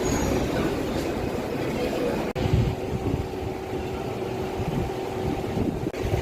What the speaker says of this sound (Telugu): మధిర 2వ నెంబర్ ప్లాట్ఫామ్కి వెళ్తున్నాం మన ట్రైన్